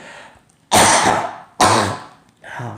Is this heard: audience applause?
no